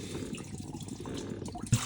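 Water dripping and trickling beneath a 1.6 car during a timing belt repair: a steady, close wet patter with one sharper drop near the end.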